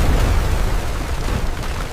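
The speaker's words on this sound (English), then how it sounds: "That explosion almost buried the trench!" Heavy explosion striking a WWI trench in 1916, a loud continuous low rumbling roar that fills the whole clip with dense, churning debris noise and no talk.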